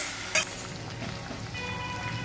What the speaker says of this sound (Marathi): मिरची थोडीशी आपली फ्राय झालेली आहे